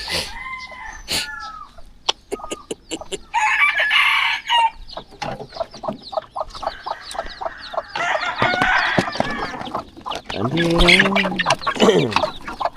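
Chickens clucking and squawking close by, with a rooster crowing near the end, mixed with scattered movement noises and some voices.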